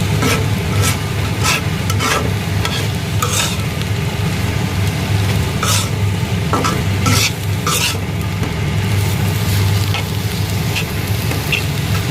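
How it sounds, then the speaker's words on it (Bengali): Pea shoot greens frying in a pan as they are stirred, a loud continuous sizzle broken by repeated scraping strokes of a utensil against the pan, with no talking. "এই যে মটরশুঁটির শাক রান্না করতেছি রাত বারোটার সময়"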